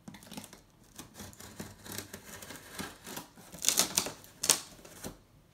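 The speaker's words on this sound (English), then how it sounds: "I cut the tape to the box" Blade slicing through packing tape on the cardboard box of a 27-inch 4K LG monitor, close, soft scratchy tearing and crinkling strokes with a couple of sharper rips near the end.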